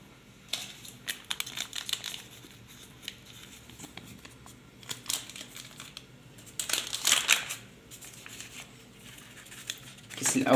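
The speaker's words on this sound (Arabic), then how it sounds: "تعاود ديري زوج ساشيات خميره كيميائيه" Baking powder sachets are torn and emptied over flour being sifted for an eggless cake, giving papery crinkles and soft scraping taps that come in scattered bursts, with louder rustling near the end.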